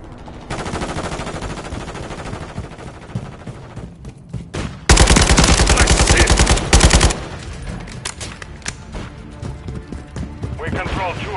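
Rapid automatic gunfire from a Modern Warfare 3 multiplayer match, loud bursts of rattling shots with a sustained, very loud volley in the middle, followed by scattered shots and game effects.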